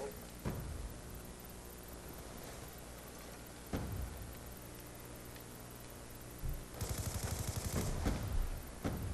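Rapid gunfire from the video game Black Ops 2 crackles through a dense mix of game sound, with sharp shots at intervals and a sustained burst of fast automatic fire near the end.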